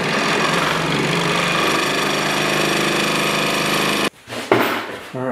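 A Delta 16-inch variable speed scroll saw runs at a steady, loud mechanical drone with fast reciprocating buzz, then shuts off abruptly near the end, leaving brief clunks and handling noise.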